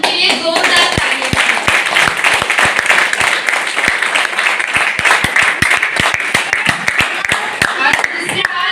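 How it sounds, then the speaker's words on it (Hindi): Crowd at a celebration in Bhiwandi claps loudly, a dense, close roar of applause punctuated by many sharp individual claps, with voices and cheering mixed in throughout. "प्लीज एक बार उनके लिए जोरदार तालियां।"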